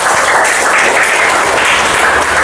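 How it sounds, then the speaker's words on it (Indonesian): Steady, loud applause from an audience clapping for a speaker, a dense continuous patter of hands that runs without a break. "Ya, kasih aplaus untuk Nasta ya."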